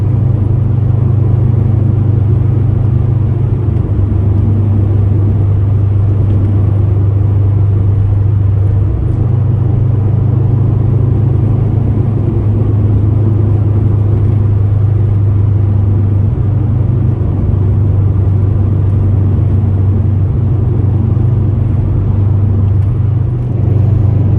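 A Subaru WRX coasts downhill on a mountain road with the driver's foot off the accelerator, making a loud, steady low engine and road rumble from inside the cabin that holds even for the whole stretch.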